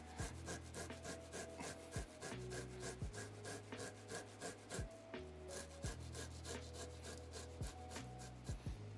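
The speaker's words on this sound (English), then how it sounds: "You can microplane garlic without peeling it." Unpeeled garlic cloves scraped across a microplane grater in a rhythmic series of quiet rasping strokes, about a dozen back-and-forth passes, close and faint with no talking.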